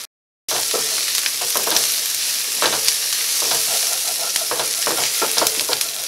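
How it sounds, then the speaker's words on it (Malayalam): Turmeric and coriander powder fry in hot oil for a potato curry with a steady, close sizzle and hiss. Repeated scraping stir strokes break through it, running almost continuously after a short silent start. "ഈ മഞ്ഞൾപ്പൊടി ഇതിനകത്ത് കിടന്നിട്ട് നന്നായിട്ട് മുരിയണം"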